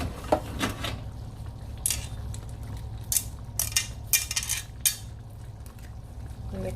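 Pasta noodles tossed into a pan with chicken and shrimp and stirred, giving irregular metallic clinks and scrapes of utensil against cookware over a low background hum.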